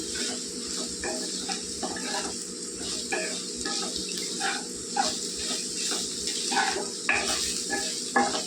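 Raw banana pieces frying with chili powder in a pan make a steady, soft sizzle throughout, with occasional clinks and stirring scrapes and no talk.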